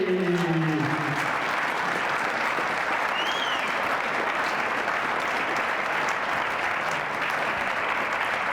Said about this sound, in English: Can we have a round of applause, please, for Andrew Murray?